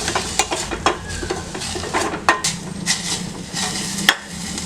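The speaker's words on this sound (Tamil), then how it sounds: "இப்போ பாருங்கள், நல்லா ஒரு வதக்கிட்டோம் நெய்யில்." Ingredients for a soup sizzle in ghee while a spoon stirs and scrapes the pan, with repeated clinks and scraping over a steady frying hiss, close and fairly loud.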